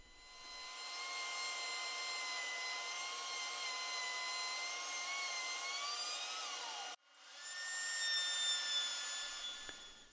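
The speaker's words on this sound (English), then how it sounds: "Now I'm doing a 3/8 inch round over on both the top and bottom of the top of the stool here." A wood router cuts a 3/8 inch round-over along the top of a wooden step stool, a steady high whine holding for about seven seconds, briefly dipping, then resuming strongly, with no talk.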